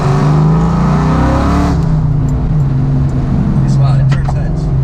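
A cammed 1999-2004 Ford Mustang GT New Edge with a stock Coyote-era comparison in mind drives loudly, its choppy V8 rumble steady and close throughout, with a brief shift in pitch partway through.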